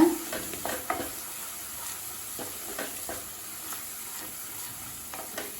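Hyderabadi chicken masala sautéed in oil, with a soft continuous sizzle and repeated scraping strokes of a spoon stirring the pan, close and moderately quiet.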